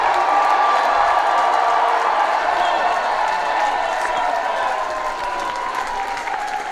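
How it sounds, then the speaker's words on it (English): Spectators at a hockey match in Singapore applaud both teams with steady, dense clapping from a large crowd, sustained throughout with a faint voice underneath. "A round of applause to both these teams."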